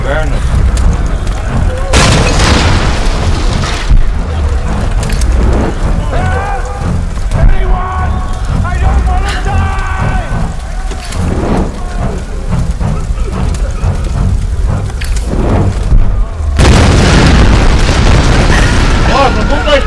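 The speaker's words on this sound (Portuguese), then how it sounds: "Nossa, tudo tá explodindo, cara." Explosions in the video game Tomb Raider boom heavily with deep rumbling and crackling debris, loud and sustained, while someone talks over the game audio.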